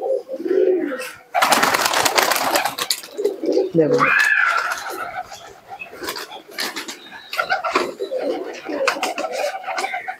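Small Pakistani tournament pigeons cooing in a rooftop loft, soft throaty coos near and low under a man's speech, with scattered clatter and wing flaps around.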